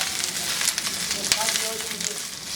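Continuous sizzle of onion and tomato frying in oil for vegetable chow mein, with soft crackles and occasional stirring clicks, a faint voice murmuring underneath.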